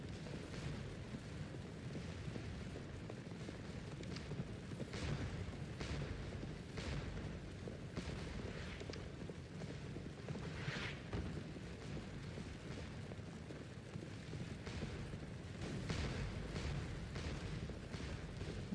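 Napoleonic cannon artillery fires across a Waterloo battlefield in the game Scourge of War: Waterloo, with scattered dull booms rising now and then out of a constant low battle rumble, distant and fairly faint.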